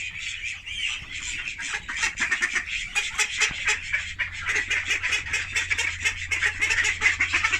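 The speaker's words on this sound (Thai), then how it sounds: "อันนี้เขาเรียกเป็ดคอดักนะครับ" Call ducks quack and honk in a rapid, continuous chorus from a flock kept for sale, dense overlapping calls close by, with no talk.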